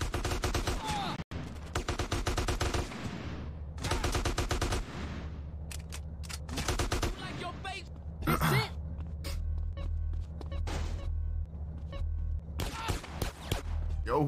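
Repeated bursts of gunfire in Grand Theft Auto: San Andreas, rapid volleys of shots dense through the first seven seconds, then scattered single cracks against steady game background noise and some talk.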